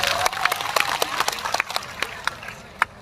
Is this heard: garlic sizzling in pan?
no